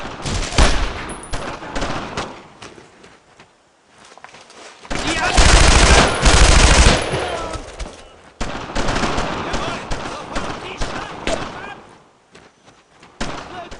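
Rapid machine gun bursts in the WWII shooter game Brothers in Arms: Road to Hill 30, at German barracks near Saint-M, loud and repeated in several stretches with the heaviest burst midway, while soldiers' voices shout over the gunfire.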